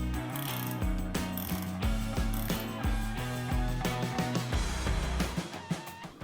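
Ratchet with a 1/2-inch socket working header bolts loose: rapid clicking pawl strokes repeating in regular bursts, close and clear, with no voices.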